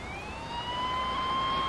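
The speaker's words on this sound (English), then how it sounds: "I hung up the phone and I hear the sirens going." A police car siren wails in a steady rising tone, sounding somewhat distant over a low background rumble and growing slightly louder, responding to an emergency call about a child trapped in a car trunk.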